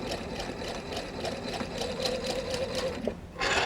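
A sewing machine runs steadily at close range, stitching a chicken-shaped pin cushion onto an anchor cloth, with a rapid even needle rhythm that speeds up slightly at the very end.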